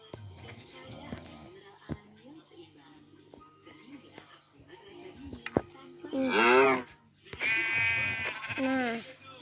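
Sheep bleat in a video game, two loud, wavering bleats arriving near the end after quieter in-game clicks and footsteps.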